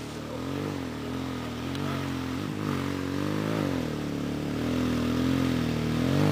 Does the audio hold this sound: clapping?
no